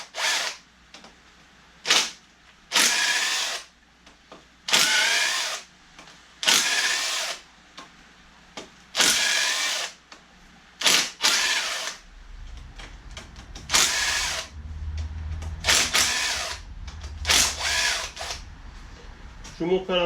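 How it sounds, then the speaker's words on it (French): A ratchet wrench undoes cylinder head cover bolts on a 2.0 HDI 110 hp diesel engine: about a dozen short, sharp clicking bursts at close range, separated by pauses, with low background noise and a little talk near the end. "on démonte toutes les vis du couvre-culasse"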